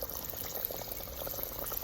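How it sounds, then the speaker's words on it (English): Pickled green tomatoes fry in hot oil with a faint, steady bubbling sizzle and scattered small crackles throughout, no voices present. "see what it's looking like during its frying process"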